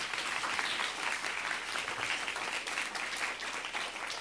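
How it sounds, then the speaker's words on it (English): An audience applauds the day's speakers at a talk, a continuous, even patter of many hands clapping at moderate distance, filling the moment without any voices. "Can I please get an applause for our speakers of today?"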